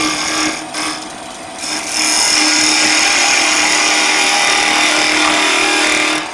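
A skew chisel takes a light cut along a spinning workpiece on a wood lathe, a steady, loud, bright hiss of shaving that swells after a short start and holds evenly to the end, with no talk.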